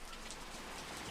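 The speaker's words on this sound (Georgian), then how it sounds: "კიდევ წვიმს გარეთ. დილიდან წვიმს, ჯერ არ შემწყდარა." Steady rain falls outside, a soft even hiss of drops on surfaces with no thunder or voices, faint and continuous throughout.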